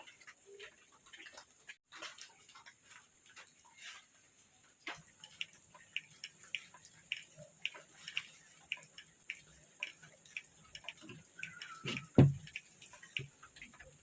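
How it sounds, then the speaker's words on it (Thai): Rain at night around an abandoned temple's monk hut, heard as sparse, irregular drips and ticks, some sharper and closer, over a quiet, faint background with steady high insect-like hiss. "ฝนก็ยังไม่หยุดตกนะครับ"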